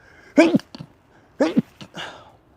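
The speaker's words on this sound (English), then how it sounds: "I was going to use it as a confirmation sneeze" Two sharp sneezes about a second apart, close and loud, with quiet in between.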